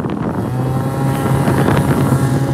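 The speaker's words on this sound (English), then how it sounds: "I'm on my moped." A small moped engine drones steadily at close range while riding, with wind rushing over the microphone.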